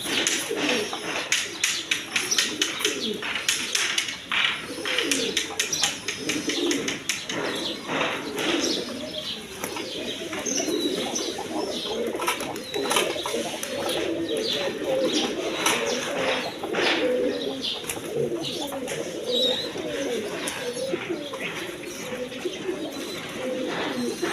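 Roughly 120–130 pairs of pigeons of mixed high-flying breeds, some feeding young, coo continuously at a loft, a thick layered chorus of low calls with occasional chirps and bursts of wing flapping.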